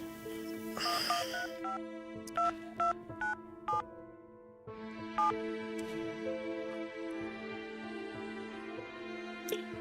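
Faint ringback tones pulse on a phone line in short repeated beeps, heard over a quiet background hum with no talking.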